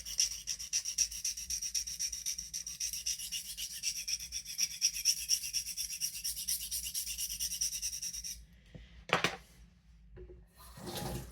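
A paring knife is drawn steadily across a sharpening plate, giving a continuous, close scraping rasp for about eight seconds, then a few brief, quieter strokes after a pause.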